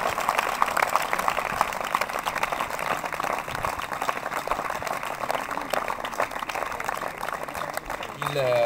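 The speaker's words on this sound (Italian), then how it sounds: "che è giusto ricordare con un applauso" A crowd at a memorial tournament award ceremony breaks into sustained applause, a dense, even wash of clapping that holds for several seconds, with a brief voice near the end.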